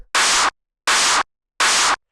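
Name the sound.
distorted clap sample for hypertrance drums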